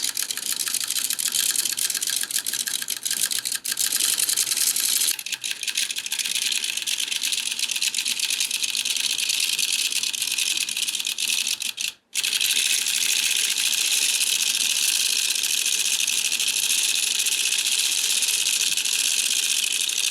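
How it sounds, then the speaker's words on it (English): A Dean & Bean circular sock knitting machine runs steadily, a dense mechanical clatter of needles riding the cams, close and continuous for twenty seconds with one brief pause midway. "now that we have the happy sound of a sock machine doing its knitting thing"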